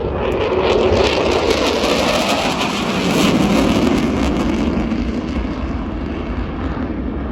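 Eurofighter Typhoon fighter jet at an air show in Ayr, Scotland, producing a loud, continuous broadband engine roar that swells slightly mid-way and holds steady throughout, with no speech.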